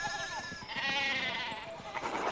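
Sheep bleat in the medieval video game Pentiment, several wavering calls overlapping over a few seconds, fairly close and clear with no talk.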